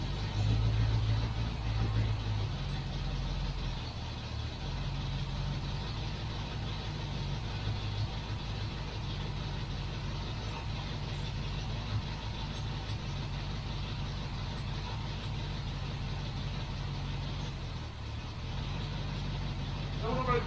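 A Lincoln Green Range Rover engine running just after its first start, a steady low idle rumble that holds evenly throughout with only a slight dip near the end.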